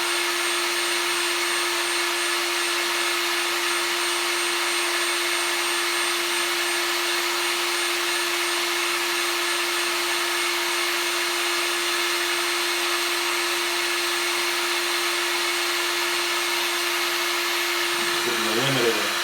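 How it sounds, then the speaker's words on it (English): A heat gun runs continuously near a 1977 Camaro Z28 during fan controller work, a steady loud blowing hum with a constant tonal whine that holds unchanged throughout. "Limit of the heat gun here."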